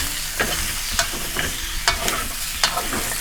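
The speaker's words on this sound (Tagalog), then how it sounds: "Igigisa natin to sa kanyang sariling mantika, guys." Pork cheek frying in its own rendered fat under a steady sizzle, with several sharp scraping stirs of the spoon against the pan at irregular intervals, close and clear with no talking.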